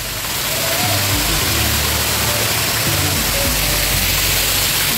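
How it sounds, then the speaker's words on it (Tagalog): Steady, loud roar of flowing water at Mimbalot Falls in Buruun, Iligan City, a dense continuous rush filling the whole stretch with no pauses and no talking. "Flowing din ng water."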